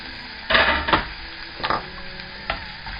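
Chopped chilli pepper and half an onion frying in oil in a frying pan, a soft sizzle broken by several close scrapes and knocks as a utensil stirs, with no talking.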